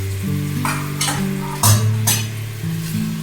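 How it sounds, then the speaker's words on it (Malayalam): Cooked beef and gravy go into a hot pan for a simple stew, sizzling loudly while a spoon stirs and scrapes through it in a few close, uneven strokes, with no one talking. "ബീഫ് ഉണ്ട്, നമുക്ക് ഇട്ട് കൊടുക്കാം. കുറച്ച് ഗ്രേവിയും കൂടെ ഇട്ട്"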